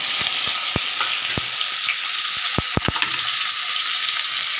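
Sliced onion and a bay leaf fry in hot oil in a pan, a dense, loud, continuous sizzle broken by several sharp clicks and knocks of a stirring utensil, with no talking.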